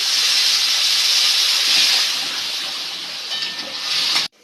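Water poured into a pan of fried spices for potol dorma sizzles into a loud, bright steam hiss that fades slightly, then surges again before stopping.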